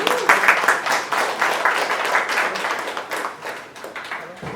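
Audience applause at a Bollywood music launch event, a brief, lively burst of clapping from a crowd that fades slightly toward the end.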